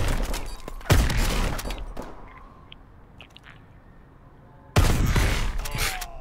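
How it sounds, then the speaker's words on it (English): Shotgun blasts in Call of Duty: Advanced Warfare, three loud sharp reports with crunchy tails, separated by a quieter lull with faint game sounds between the shots. "That shotgun sounds wicked."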